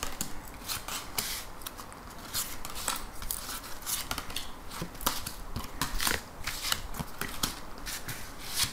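Tarot cards are handled and drawn for a reading, with a close, continuous run of crisp flicks, snaps and papery shuffling, quiet but busy and irregular, with no voice over it.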